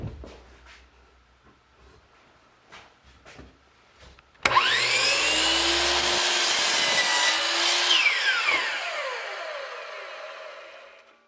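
A table saw or similar power saw spins up and cuts through a piece of wood for a trivet, a loud continuous whine with a rising rasp lasting several seconds, after quieter handling noises and knocks.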